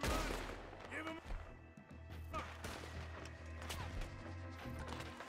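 Gunshots in Red Dead Redemption 2 during a raid on Shady Belle, with several sharp cracks and thuds scattered over a low rumbling game backdrop, fairly quiet overall, with voices talking throughout.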